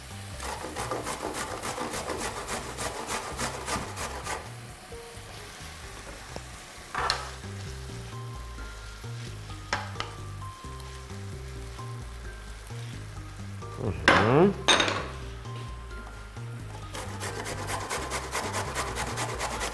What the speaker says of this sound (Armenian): Եվ միասին կտապակենք։